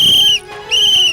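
A whistle is blown in two long, piercing blasts separated by a short gap, loud and close; a third blast is not clear.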